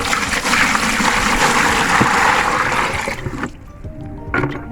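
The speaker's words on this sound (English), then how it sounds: "you pour this 5 liter of water first" Five liters of water gush into a container while making homemade liquid dish soap, a loud steady pour that tapers off into a few faint drips and trickles at the end.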